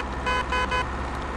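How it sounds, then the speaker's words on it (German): A truck horn in the Truck & Logistics Simulator driving game blares in two short honks over a steady engine drone, both close and clear. "So, mal Hupe ausprobieren."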